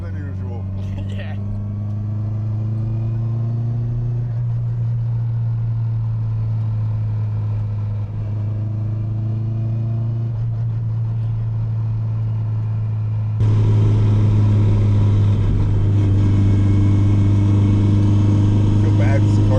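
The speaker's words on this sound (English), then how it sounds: "I feel bad because the car's so loud" A loud Subaru WRX engine driving, a deep continuous drone with rising rev swells that grows louder toward the end, with people talking over it.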